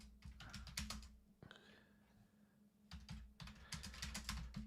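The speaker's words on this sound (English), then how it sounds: "Okay, I'm going to be typing" Quick bursts of clicking keystrokes on a computer keyboard, close and fairly quiet, come in two runs separated by a short pause, with a low hum steady beneath.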